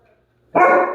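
A single loud, close dog bark bursts out after a moment of near silence.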